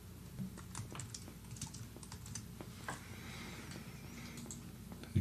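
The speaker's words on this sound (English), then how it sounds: "You can just type some text in here." Light, quick taps on a computer keyboard form a soft, steady typing patter, close and quiet with no talk.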